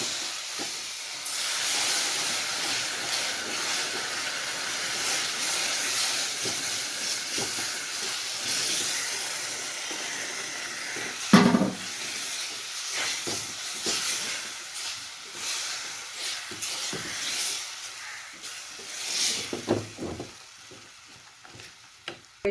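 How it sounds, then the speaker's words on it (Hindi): Jaggery syrup poured into hot desi ghee for atta halwa, a loud continuous hiss and sizzle with bursts of bubbling and stirring throughout. "हमने चाशनी बनाई है गुड़ की, तलने ऐड करना है एकदम में।"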